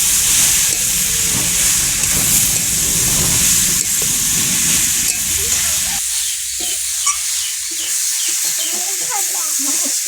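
Snake gourd frying with egg in a pan gives a continuous loud, close sizzle with hissing steam. Scraping stirs break through now and then, and the sizzle softens toward the end.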